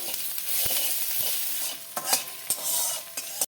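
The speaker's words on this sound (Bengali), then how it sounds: "উচ্ছেটা ভাজা হয়ে গেছে ফোড়নে দেবো শুকনো লঙ্কা দেবো সর্ষে কালো সর্ষে অল্প গ্রেট করা আদা" Fried bitter gourd with dried red chili, black mustard seeds and grated ginger tempering in hot oil, a close, continuous sizzle broken by scraping stirs and clinks of the spatula, cutting off abruptly at the end.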